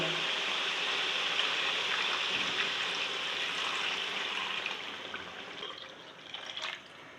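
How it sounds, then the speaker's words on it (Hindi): Water poured into a cooking pot of chicken nihari and spices, a steady close rushing splash that holds for several seconds and then thins and tapers off near the end. "और साथ में डालूँगी पानी।"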